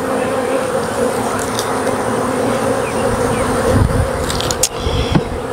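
Honeybees buzz steadily around an open hive during an inspection after almond pollination, a close, continuous droning hum with a few brief handling knocks.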